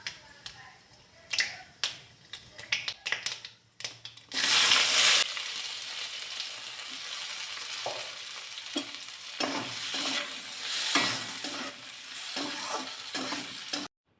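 Mustard seeds hit hot oil in a wok, giving a loud sizzling burst with sharp popping crackles that settle into a steady frying hiss, with scattered stirring clatter.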